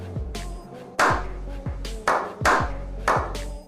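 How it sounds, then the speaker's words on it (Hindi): A monkey clapping its hands for food, giving a run of sharp, close claps in a loose rhythm roughly every half second, over a ringing tonal backdrop. "जब ये बंदर ताली बजाता है"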